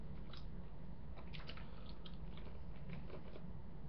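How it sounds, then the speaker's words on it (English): Sour candy crunched and chewed close to the mouth, making a run of sharp, irregular crackling bites over a constant background hiss, with no talking. "I'll crunch them."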